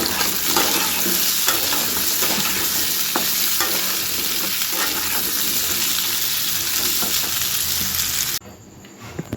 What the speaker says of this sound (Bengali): এখানে কড়াইতে তেলও দিয়ে দিয়েছি। তরকারিটা বসিয়ে দিয়ে